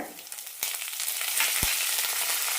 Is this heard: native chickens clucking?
no